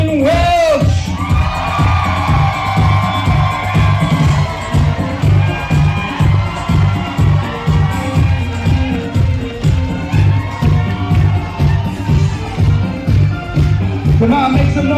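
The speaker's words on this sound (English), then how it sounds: "Let's give them an earth-shattering round of applause, the brand new Kevin and Catherine Welch." Wedding guests cheer and whoop for a newly married bride and groom over loud, pulsing music with a heavy bass beat. Excited shouts rise and fall across the crowd, with some talking in between.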